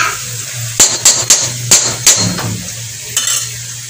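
Meat bhuna being stirred and fried in a pan at home: a series of sharp metal spatula scrapes and clanks against the pot over a soft steady sizzle, close and loud, no talking.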